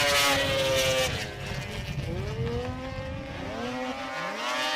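Snowmobile engines screaming at full throttle during a race at Eagle River, with rising and falling pitch as machines pass at a distance, a steady loud roar throughout.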